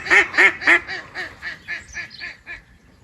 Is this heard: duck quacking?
yes